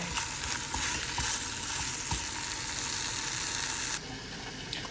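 Pastrami for an egg sandwich fries in a pan with a bright, continuous close sizzle, broken by faint scraping stirs, and eases slightly near the end.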